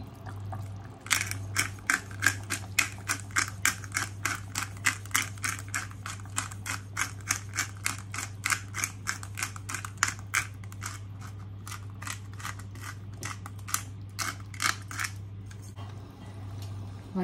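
A hand-turned pepper grinder cracking black peppercorns, producing a steady run of sharp, rapid crunching clicks close up over a low constant hum, fading out toward the end.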